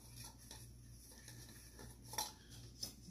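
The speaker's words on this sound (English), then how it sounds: "Inside the cozy goes the pot" A cooking pot slipped into the insulated cozy of a small Sea to Summit cup gives two faint, brief metallic clinks over a quiet, soft background.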